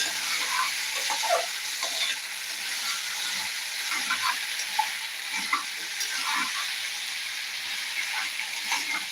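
Green peas curry fries in a pan under a soft, steady sizzle, with scattered light scraping and stirring taps close by. The level stays fairly quiet and constant.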